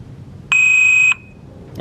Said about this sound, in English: Now it's activated with the alarm set.